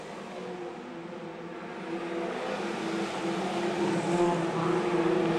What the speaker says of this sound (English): As Roberts Creek carves his way through, he's got Darren Binkley in his sights now.